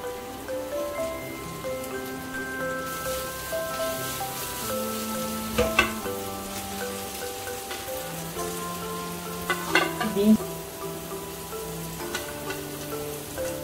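Fried rice sizzling in a pan as it is stirred, a constant crackling fry with occasional louder scrapes of the spatula, set against soft background music and no speech.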